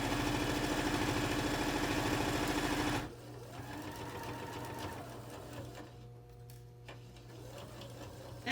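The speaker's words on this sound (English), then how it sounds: "now I'm going to sew the bottom" A sewing machine stitches the bottom of a fabric bin in a fast, rapid-fire run of needle strokes that stops abruptly after about three seconds, leaving quieter handling noise and faint clicks.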